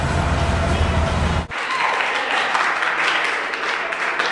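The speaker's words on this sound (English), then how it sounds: "All that applause is for me, because I completed the day." A crowd at a charity walk for the HPV and Anal Cancer Foundation applauds and cheers outdoors, a steady wash of clapping that continues throughout with faint voices mixed in.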